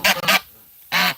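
A pet goose gives two quick loud honks, a short pause, then a third honk, close by and with no talk over it.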